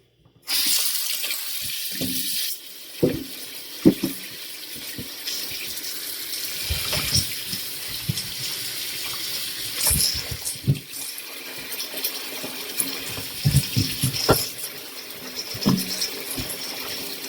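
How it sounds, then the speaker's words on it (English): Tap water runs steadily into a sink with splashing and clunks as potatoes are rinsed under the stream, close by, no voices. "the next thing I do is that I wash my potatoes off"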